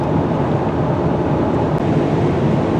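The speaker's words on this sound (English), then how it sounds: "If you're hearing a lot of wind noise coming into the cabin" Steady, loud wind roar with low rumbling buffeting inside the cabin of a 2021 Honda Ridgeline pickup truck, continuous throughout and no voices.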